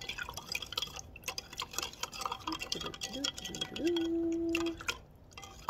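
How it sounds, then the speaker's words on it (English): A tablespoon of salt is stirred into a container of water, with light clinks, drips and swirling sounds close by and a voice partly audible. "add another tablespoon of salt. Stir it in so it dissolves."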